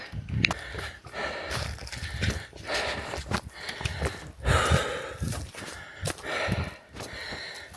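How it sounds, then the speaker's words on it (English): A hiker walking uphill breathes heavily in repeated, rhythmic gasping pants, close and fairly loud, with rustling movement between breaths. "we're going uphill now, so excuse the panting"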